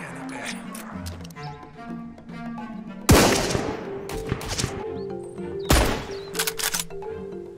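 Sniper rifle shots in a regular video game: two loud, sharp cracks a few seconds apart, each with a ringing tail, over a layered game soundtrack.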